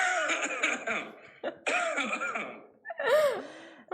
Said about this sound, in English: we have a cough coming at you